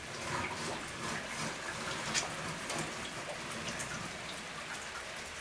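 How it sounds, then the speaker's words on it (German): Heavy rain pours down outdoors in a dense, constant hiss of drops pattering on surfaces, steady and fairly close with no speech. "Man hört es vielleicht, im Außenbereich regnet es jetzt ganz furchtbar."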